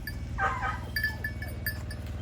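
A sheep bleats loudly nearby on a farm, followed by a few softer bleats over a steady low mechanical hum.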